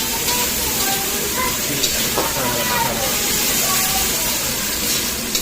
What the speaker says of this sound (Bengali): এই যে এবার চিংড়ি মাছটা দিয়ে দিলাম,